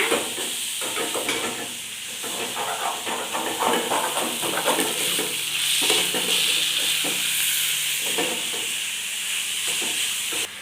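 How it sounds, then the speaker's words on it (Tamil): Onions and tomatoes fry in a small iron pan, a loud continuous sizzle and hiss with repeated scraping stirs throughout. "நல்லா கிண்டி விட்டுக்கலாங்க."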